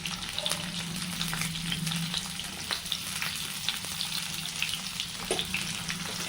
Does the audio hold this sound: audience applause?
no